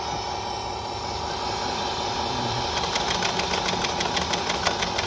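The engine of a remote-controlled rice harvester runs at a steady, loud rumble nearby. Partway through, a fast rhythmic knocking rattle joins as the machinery spins up, with no talking.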